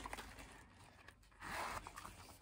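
A zipper on a Fendi wallet opens with a faint, close scratchy rasp that swells briefly partway through, over quiet background noise and without speech.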